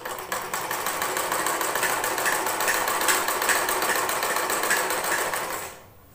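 A sewing machine runs in one steady, continuous whir while stitching latkan for a blouse, suit or kurti, then slows and stops near the end.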